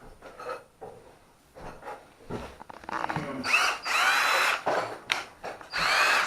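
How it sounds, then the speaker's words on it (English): A homemade cordless drill drives screws into wood in several bursts of whirring motor noise, separated by short pauses and softer handling sounds at close range. "I'm quite pleased that the Franken drill's putting the screws in."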